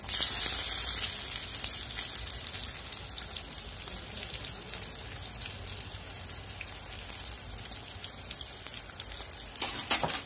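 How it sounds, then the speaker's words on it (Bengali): Onions frying in hot oil in a kadai, producing a dense, even crackling sizzle like steady rain that stays close and constant, with a brief louder burst near the end; no voices. "কড়াতে দিয়ে দিচ্ছি পেঁয়াজ"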